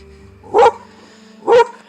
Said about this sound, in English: He's growling at something. His hair's standing up.